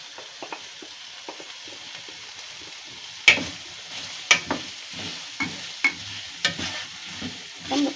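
Vegetables and spices for red lentil soup are stirred in a pot, with a steady low sizzle and a series of distinct scraping clinks from the spoon against the pot, close and fairly quiet.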